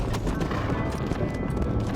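Horse hooves clip-clopping steadily in Red Dead Redemption, a dense run of close, even hoofbeats over an ongoing low rumble of movement, with no one talking.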